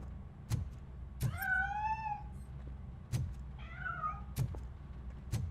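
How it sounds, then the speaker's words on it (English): Two drawn-out meows from a cat hiding inside a piano in a game world, each a rising then falling wail, separated by sharp knocking thumps over a quiet background hum. "That cat must be hiding inside."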